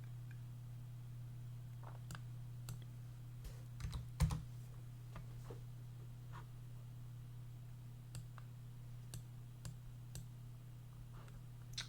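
Sparse, faint keyboard keystrokes tapped out at irregular intervals, a few clicks at a time, over a strong steady electrical hum in a quiet room, with one slightly louder cluster midway.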